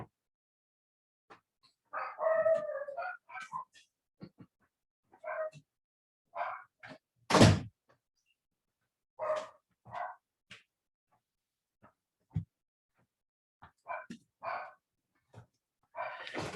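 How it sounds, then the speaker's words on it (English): A pair of guard dogs indoors give scattered short barks and yips, one bark much louder and closer than the rest, with gaps of silence and a person speaking now and then. "I happened to get a couple of dogs that are naturally guard dogs"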